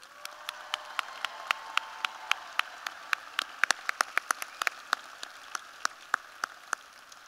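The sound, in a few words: audience applause at a college commencement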